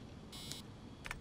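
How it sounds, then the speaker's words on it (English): Electronic beeping from the video game Assassin's Creed Origins, two short bright high tones about half a second apart, moderately loud over a steady low game background hum. "It's still beeping at me."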